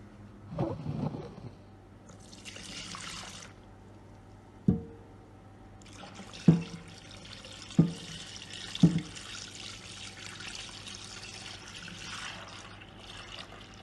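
Liquid corn paste for akam is poured and strained through a bag, with splashing and trickling water sounds, a brief early pour, scattered drips and a few sharp knocks or taps midway.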